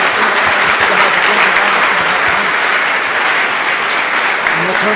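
A church congregation claps in unison during a worship service, a loud, sustained wall of applause with faint voices mixed underneath.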